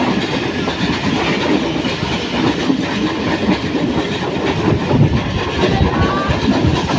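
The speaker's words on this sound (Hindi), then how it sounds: "ट्रेन।" A Pakistan Railway 18 Down Express train runs into Karachi, its steady loud rumble and clickety-clack of wagons filling the whole stretch with no speech.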